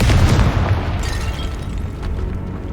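A Confringo blasting spell explodes in Hogwarts Legacy, a loud, close, rumbling boom that strikes at once and decays over a couple of seconds with crackling debris.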